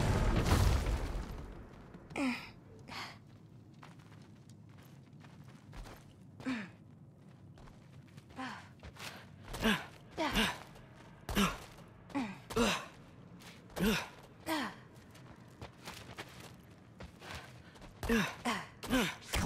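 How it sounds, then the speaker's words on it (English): Something breathing in a dark cellar in God of War Ragnarok, slow deep rhythmic sighs and gasps repeating every second or two, faint and close against a quiet background. "I think I can hear something breathing near the back of the cellar."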